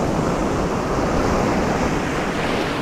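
Ocean waves breaking along a sandbar on the Gulf shore at Galveston, Texas, a loud, steady roar of surf and wash with wind buffeting the microphone and no voices.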